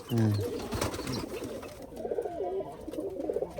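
Rajshahi Giribaj pigeons kept at a home loft coo steadily and close by, a low, rolling murmur of overlapping calls running through the whole stretch.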